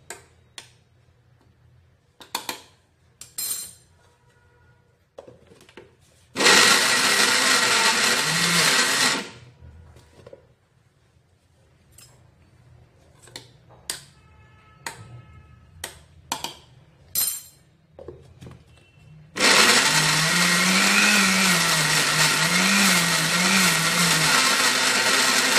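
A kitchen mixer grinder crushes garlic cloves with dried coconut and red chili powder for dry vada pav chutney, running in two loud whirring bursts separated by quiet handling clicks and taps.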